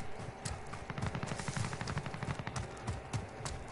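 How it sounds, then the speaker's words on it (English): Rapid bursts of gunfire from a video game crackle in dense, repeated volleys across the whole stretch, loud and sustained like machine-gun fire. "Towards gunfire."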